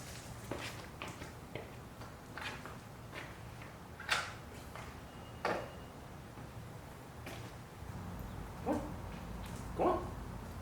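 A dog whimpers and gives short barks while being loaded into a Burley Tail Wagon dog trailer hitched to an Emove Cruiser electric scooter. The sounds are faint, scattered yelps over a steady low outdoor background.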